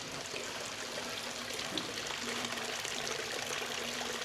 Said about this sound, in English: There's some running water off the mountains